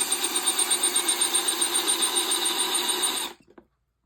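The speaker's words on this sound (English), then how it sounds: "you should wear a mask with this because you are drilling through resin too" A drill bit bores through a resin seashell ornament, giving a steady, close buzzing whine with a rapid pulsing rhythm for about three seconds before it cuts off abruptly.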